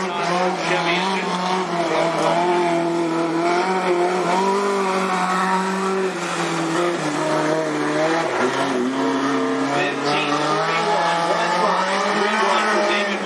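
A midget race car with an Ellis chassis and Chevy engine screams at speed at Cottage Grove Speedway, a continuous loud engine drone with shifting pitch and tire noise over a steady track roar.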